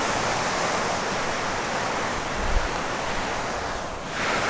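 The Chandatal river in the Himalayas rushes past in a dense, unbroken roar of flowing water, loud and steady from start to finish with no voices over it.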